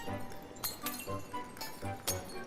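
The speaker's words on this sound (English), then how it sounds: "all the glass on the ship is just busting" Glass shatters repeatedly aboard the sinking Titanic in a video game, a series of sharp clinking breaks and cracks spaced irregularly over a low, rumbling background.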